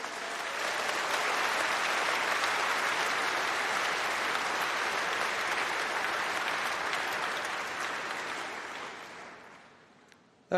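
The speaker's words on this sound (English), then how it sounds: "giving yourselves all a big round of applause and some cheers" Sustained, loud applause from a large graduation congregation audience fills the space steadily, a dense wash of clapping that holds for about nine seconds before tapering off near the end.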